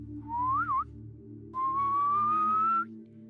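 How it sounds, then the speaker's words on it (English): Two clear human whistles, a short rising-and-wavering one followed after a pause by a longer, steadily rising note, over a low steady hum. "Heidi heard a whistle."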